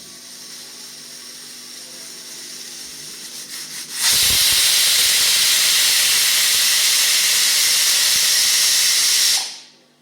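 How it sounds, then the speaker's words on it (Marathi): A pressure cooker whistle on a stove at medium heat bursts into a loud, sustained steam hiss after a few seconds of quieter background, holding steady for about five seconds before abruptly cutting off, with no talking. "कुकरचं झाकण लावून मीडियम आचेवरती ह्याची एक शिट्टी करून घेऊयात"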